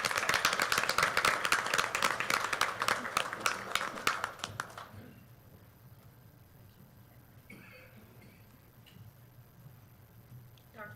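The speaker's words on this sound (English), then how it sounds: "So if you'll give him a round of applause." Audience applause at a school district board meeting, a dense burst of clapping that fills the room for about four seconds, then fades quickly into quiet murmuring room tone.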